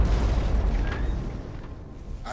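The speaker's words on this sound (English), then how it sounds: "Dropping another charge of our Nova Cannon on this guy." A Nova Cannon blast from the Battlefleet Gothic Armada 2 space strategy game, a deep booming rumble that opens loud and slowly decays over a couple of seconds, with a faint whoosh near the end.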